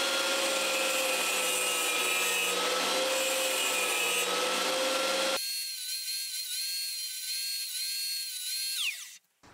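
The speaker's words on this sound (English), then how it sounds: "I'm going to cut a notch in between the coupler nut and the head of the cap head bolt" A steel cap-head bolt has a notch cut between its coupler nut and head while making a Martin-style acoustic guitar truss rod. A loud, steady grinding hiss turns into a high, sustained whine that winds down at the end.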